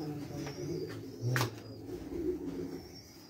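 Pigeons kept in a rooftop loft setup coo softly in low, rolling phrases, with a brief louder coo near the middle and faint background ambience.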